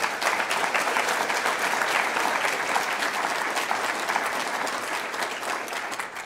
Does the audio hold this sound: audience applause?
yes